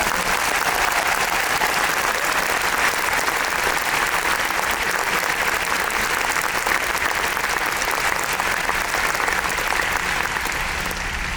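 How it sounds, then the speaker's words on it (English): Loud, sustained applause from a large theater audience at a musical celebration of a songwriter, honoring his children and grandchildren, with dense steady clapping throughout and a faint crowd murmur. "So how about a special applause?"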